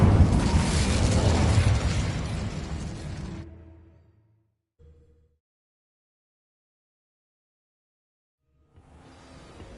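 An Incendio fire spell in Hogwarts Legacy bursts loudly with a roaring whoosh that fades over a few seconds into near silence, followed by a faint low rumble.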